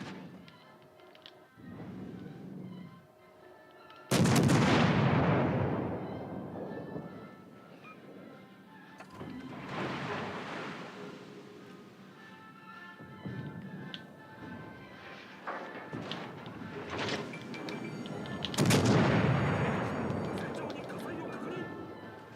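Heavy booming salvos from warship main guns in World of Warships: Legends, several deep blasts spread out with rumbling decay, with someone talking over much of it.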